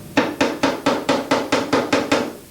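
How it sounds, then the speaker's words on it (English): Nine light, evenly spaced taps from the pick end of a body hammer on car body sheet metal, each with a short ringing decay, close and clear. "tap them down real lightly with the pick part of the hammer"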